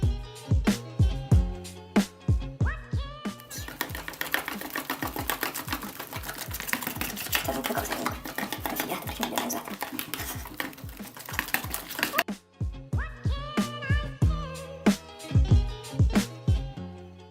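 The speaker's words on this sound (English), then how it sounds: "Now start to mix it all together with a fork, or, if you have it, with a whisk, until all the ingredients become homogeneous." Pancake batter stirred with a fork or whisk in a bowl, rapid rhythmic clicking and tapping against the sides in bursts, with a dense stretch of continuous fast whisking in the middle and no talking.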